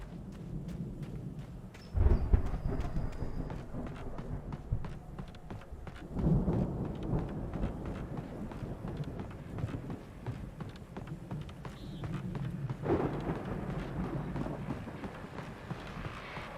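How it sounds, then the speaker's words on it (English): Thunderstorm in the video game Alan Wake, rolling thunder claps at intervals over continuous rain and low rumble, loud and full, with no talking. "that storm we all felt coming is finally here"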